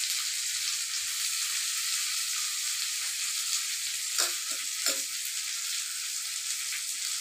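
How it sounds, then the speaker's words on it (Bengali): Chopped onion and green chili fry in a pan with a constant bright, hissing sizzle, close and fairly quiet, with a couple of brief soft stirring knocks partway through and no talking. "ওখানে দিমু আমি পেঁয়াজ কুচি, কাঁচা লঙ্কা"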